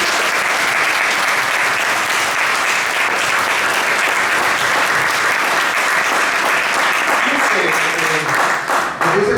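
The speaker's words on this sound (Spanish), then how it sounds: "¿Por qué no dan un aplauso a Jesús?" A church congregation applauds Jesus during a Spanish-language sermon, loud dense clapping filling the room throughout, with a few voices briefly heard as it tails off.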